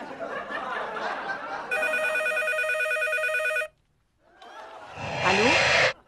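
An electronic telephone rings in one sustained, warbling burst lasting about two seconds, loud and near. Chatter comes before it, and after a short silence a voice answers.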